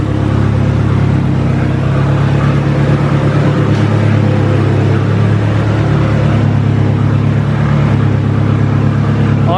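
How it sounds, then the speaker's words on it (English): A car's exhaust drones in a steady, loud, low rumble with a mild rise in revs, running continuously and close by in a garage with no talk. "my exhaust sounds like shit, so I gotta fix that"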